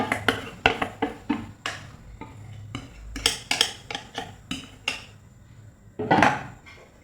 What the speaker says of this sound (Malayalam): ഇതിനെ ഒന്ന് ലെവൽ ചെയ്ത് കൊടുക്കുക സ്പൂൺ കൊണ്ട്